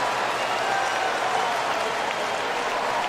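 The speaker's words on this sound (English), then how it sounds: "The crowd reacted to the replay." Football stadium crowd at the 2020 Outback Bowl, Gophers against Auburn, applauding and murmuring after a replay, a steady dense wash of clapping and crowd noise throughout.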